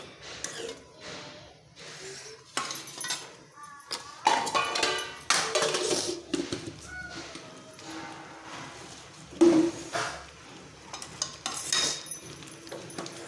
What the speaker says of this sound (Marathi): इथे मी भाजीला छान असं हलवून घेणार आहे